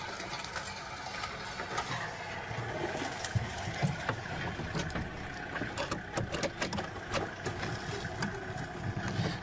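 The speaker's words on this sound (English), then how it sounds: "I just want the vehicle to pass" A safari vehicle rumbles past at moderate distance, a low steady engine drone mixed with rattles and knocks, with no one talking over it.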